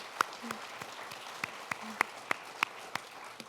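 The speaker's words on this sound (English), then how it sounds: "Let's give all of our sponsors please one more round of applause." Sponsors at the Hudson Ambassador coronation get another round of applause from the audience, heard as sparse, fairly quiet scattered claps with a few sharper individual hand claps standing out over a soft crowd background.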